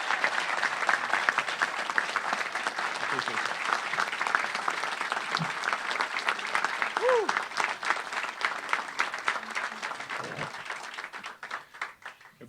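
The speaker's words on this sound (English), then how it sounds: "Give our police commissioner a round of applause." A crowd at a Philadelphia police swearing-in ceremony breaks into sustained, dense applause for the police commissioner. The clapping stays full for over ten seconds, with a whoop and scattered voices rising through it before it starts to thin at the end.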